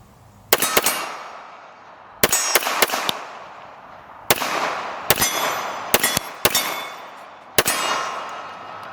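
Gunshots from a Sig Sauer 1911 Nightmare .45 ACP pistol fired outdoors, sharp loud cracks in irregular bursts of single and double shots with short echoing decays between them.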